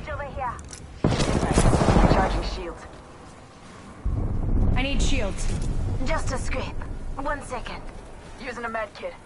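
Gunfire rattles in the Apex Legends video game, bursts of rapid shots and heavy blasts under steady game voices and chatter, loud and close in two sustained stretches.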